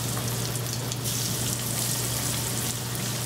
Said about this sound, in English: Now they're in our pan being fried.